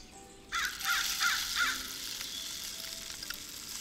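A crow at a winter bird feeder caws four times in quick succession, loud and fairly close, over a steady outdoor hiss that continues after the calls stop.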